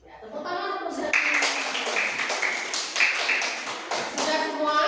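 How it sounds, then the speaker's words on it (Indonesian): Classroom clapping for the teacher, a dense burst of many small hands applauding together for several seconds, with children's voices mixed in. "tepuk tangan untuk saya"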